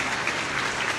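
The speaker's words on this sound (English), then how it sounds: "Can we give a huge round of applause for our awesome" Audience applause for a keynote speaker at a conference: a dense, steady wash of many hands clapping at once, loud and close, with no break through the whole second.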